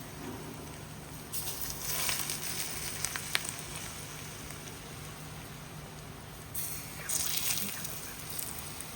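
Very hot oil is poured over spices for raw mango pickle and sets off a loud crackling sizzle in two bursts, with a quieter fizzing hiss in the gaps between them.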